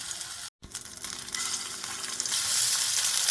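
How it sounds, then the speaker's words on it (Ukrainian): Cottage cheese pancakes sizzle and crackle in a hot pan after a brief silent gap, the frying growing louder and steadier toward the end. "І тож на розігріту сковорідку кладемо сирнички"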